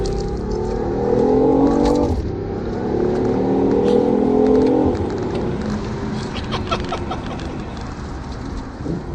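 A BMW i8 hybrid sports car accelerating through a tunnel: the engine roars and revs hard, a loud harmonic drone that rises and then fades, followed by scattered clicks and rumbling, with no speech.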